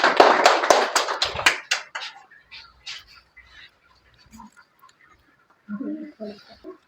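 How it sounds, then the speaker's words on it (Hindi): A few loud, sharp claps ring out at an award ceremony for a daughter, then stop, leaving near-silence with faint scattered sounds before voices talk again. "एक बार जोरदार तालियों से बेटी के लिए भी।"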